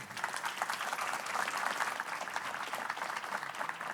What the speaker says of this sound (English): Please give a big round of applause for the speakers.